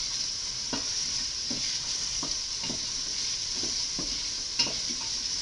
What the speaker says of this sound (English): So I'm going to saute this first in the vegetable oil.